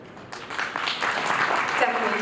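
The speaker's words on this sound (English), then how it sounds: "Definitely deserves a round of applause." Audience applause at the Pharma Ratna 2019 awards event in New Delhi, a broad wash of clapping that swells and holds steady from a crowd, with no speech over it.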